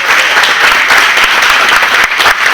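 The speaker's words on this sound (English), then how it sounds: "so hold your applause" Dense, loud audience applause at Bob Gilliland's 88th birthday celebration at the Santa Monica Air Museum, continuous clapping from a crowd throughout.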